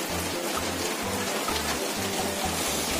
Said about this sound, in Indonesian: Suasana mulai hujan. Hujan guys.